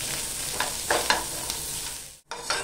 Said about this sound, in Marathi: कांदा लसूण आहे ना आपण बारीक गॅस करून आहे ना सतत ढवळून आहे ना गुलाबी रंग होईपर्यंत छान असा भाजून घेऊया